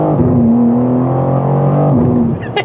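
A BMW M4 CSL pulls hard under acceleration, its engine note climbing steadily and loud, then dipping at a rapid gear change from the ZF 8-speed before climbing again.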